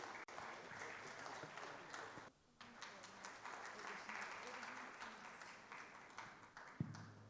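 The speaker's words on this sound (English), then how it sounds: "Can we have a huge round of applause for him" Applause from an audience at a design event, sustained crowd clapping with a short dip partway through and a sharp knock near the end.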